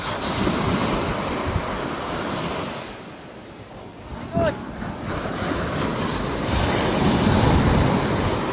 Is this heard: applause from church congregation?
no